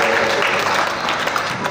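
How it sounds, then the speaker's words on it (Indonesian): Applause at a school arts performance, a dense, loud wash of many hands clapping continuously for a short stretch. "Kita berikan tepuk tangan untuk Ibu Serena"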